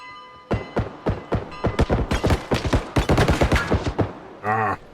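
Gunshots in the Bodycam video game ring out as a string of sharp, loud single shots, quickening into a rapid volley before stopping, followed by a brief dry click-like mechanical sound, with no talk.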